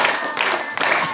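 Schoolchildren in a primary school classroom clap their hands together on a teacher's count, a brief, loud burst of group clapping in quick bunches, close and bright.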